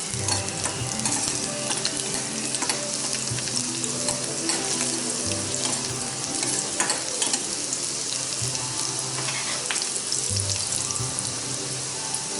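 Garlic sizzles in hot oil while being mixed around a pan for momos, a dense steady frying hiss with frequent scraping and clinking stirs throughout.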